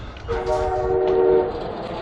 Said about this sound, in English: Somebody's got a train horn on their truck.